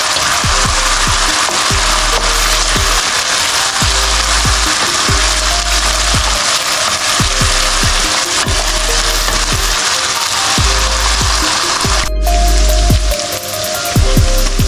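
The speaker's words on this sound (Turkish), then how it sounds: "Soğan, fındık yağı ekleyip rengi dönene kadar kavuruyorum arkadaşlar." Onion frying in hazelnut oil, a steady close sizzle filling the whole stretch with repeated soft scraping strokes of a utensil against the pan and a short clatter near the end.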